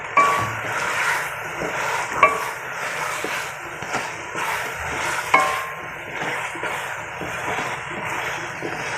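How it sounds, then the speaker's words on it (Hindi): Chicken and bitter gourd fry in a pan for chicken karela while being stirred, with a steady sizzle under scraping and occasional metallic clangs of the spoon against the pan. "तो मैं अब इसको अच्छी तरह से तकरीबन 10 मिनट तक मैं इसको भूनूँगी ताकि गोश्त में से कच्चापन ख़त्म हो जाए"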